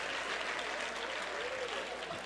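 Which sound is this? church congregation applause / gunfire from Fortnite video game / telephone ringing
church congregation applause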